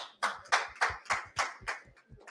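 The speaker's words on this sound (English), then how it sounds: "So I want to give him one more round of applause." Handclaps from a small meeting audience, about eight distinct claps in an uneven rhythm, close and fairly clear, with no talk.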